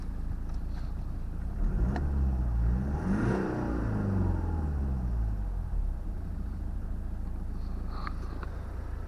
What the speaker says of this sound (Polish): Ładnie się wkręca, łańcucha nie słychać przy uruchomieniu silnika